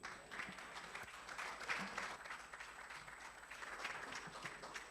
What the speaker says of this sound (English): Let's appreciate Ransford with a huge round of applause